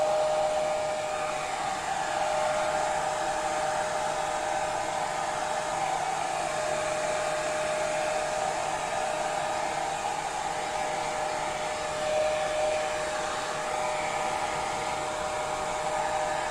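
A hair dryer blows steadily and loudly without a break, a constant whirring airflow with a faint whine, used up close to dry roses for a craft project.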